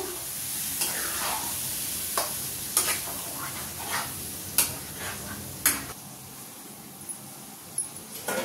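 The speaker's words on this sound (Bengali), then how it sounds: "দেখো এবার চিকেনটা আমি দিয়ে দিলাম।" Chicken frying in a pan, a soft sizzle under repeated sharp scrapes and clinks of a spatula stirring at an uneven rhythm, close by and without talk.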